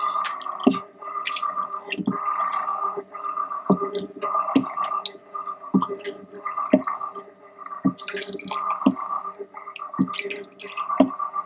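Water spurts and gurgles in a steady pulsing rhythm, with drips and splashes repeating every second or so, close by.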